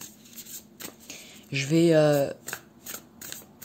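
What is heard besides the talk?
shuffling and spreading oracle cards to draw three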